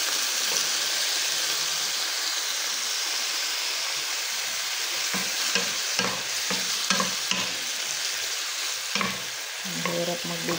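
Pork sizzles in a pan for pakbet, a constant bright frying hiss with intermittent stirring scrapes and clicks toward the end, no talk over it.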